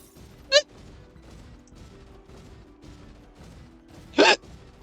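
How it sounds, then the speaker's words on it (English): Two sharp, isolated hiccups, one early and a stronger, slightly longer one near the end, each a sudden voiced catch standing out over quiet background hum during a Final Fantasy XIV stream. "The hiccups are angry tonight."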